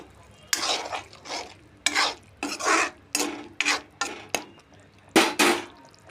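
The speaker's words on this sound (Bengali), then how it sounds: "তারপর দিয়ে দেব গরম মশলা বাটা। দিয়ে নাড়তে থাকবো।" A spoon repeatedly scrapes and stirs garam masala paste through a paneer curry in a pan, making rhythmic rasping strokes about once or twice a second over a faint sizzle.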